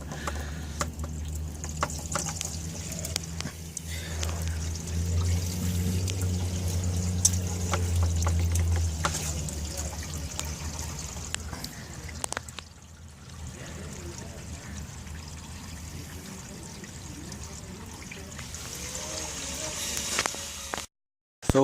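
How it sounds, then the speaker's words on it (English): Water pouring and trickling out of a leaky travel trailer toilet tank, a steady close stream for roughly twelve seconds that then drops to a softer, thinner dribble until the end. "So there's still a lot of water coming out from the tank, so I'm gonna let go some of the water"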